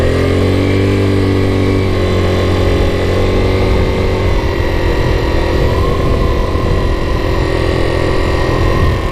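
A 1984 Yamaha Riva 180 scooter engine running after restoration work, a close, loud buzzing idle that holds a steady pitch, shifts partway through, then keeps going at a raspier, uneven putter with no talking.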